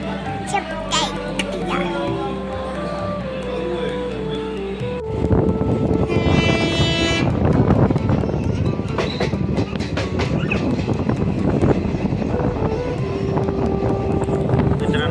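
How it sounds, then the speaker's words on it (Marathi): A passenger train in motion on rails, starting with tonal, musical sounds, then switching to a loud, continuous rumble with rhythmic clatter as people talk over it. "हे बघा ट्रेन चालू आहे आपली।"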